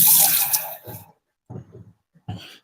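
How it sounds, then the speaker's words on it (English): Water is poured from a tap into bread dough, a bright splashing rush that stops after about a second, then short trickles and drips follow in separate bursts. "So I'm gonna put a little bit of water."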